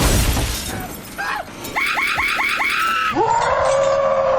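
A woman's piercing, wavering scream from the 2009 horror film Friday the 13th rises in several sharp bursts over a tense score, ending in a long held shriek.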